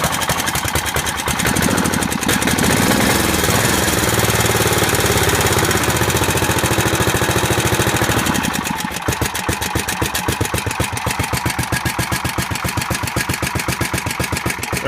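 A Snapper lawn mower engine runs steadily close by on a cool day of about 40 degrees, its loud rapid chugging continuous throughout, with the firing pulses growing sharper and more distinct in the latter half.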